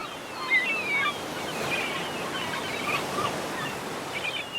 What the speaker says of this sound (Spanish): puedes escuchar las olas chocar con las rocas de abajo.